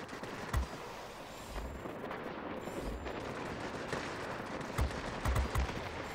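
Aircraft secondary and main guns firing in World of Warplanes, the I-260 premium tier VIII fighter, a few separate bursts of low thudding shots over a steady wash of engine and wind noise.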